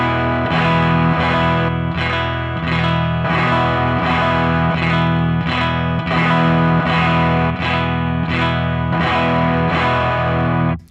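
Line 6 Helix distortion, gain lowered, tone at noon and level maxed, drives a clean electric guitar strumming loud, even chords in a steady repeating rhythm with no talk.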